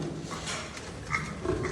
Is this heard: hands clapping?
no